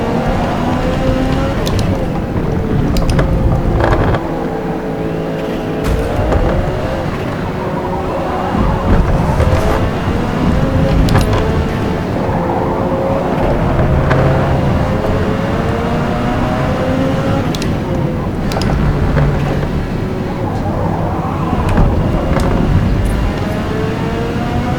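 Race cars roar around a track in the Forza Motorsport racing game, their engines whining and shifting up and down in pitch as Koenigsegg supercars pass, loud and continuous with no talking.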